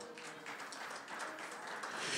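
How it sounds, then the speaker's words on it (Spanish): A church congregation applauds during a Spanish-language evening service, a steady wash of many hands clapping, fairly distant and soft, swelling slightly toward the end. "Dale una ofrenda de palmas al Señor."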